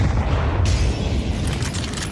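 Grenade explosion in a ranked video game match, a loud, deep boom with a sudden crackling burst after a short moment, then a fading rumble and some scattered debris.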